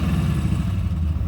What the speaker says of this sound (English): it's idling like a gem.